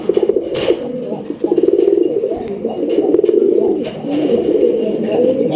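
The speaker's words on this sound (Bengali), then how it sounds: "হিরো মোদের এলাকায় সবগুলো হচ্ছে মোবাইল পায়রা।" Pigeons coo in low, repeated throaty bursts, close and fairly loud. The calls overlap and run almost continuously, with some faint rustling and no clear talk.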